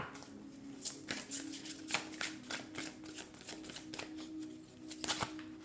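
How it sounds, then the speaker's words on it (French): Tarot cards being shuffled by hand: a rapid series of crisp riffling bursts and soft slaps, close and fairly quiet, with no talk over them. "En battant mes cartes"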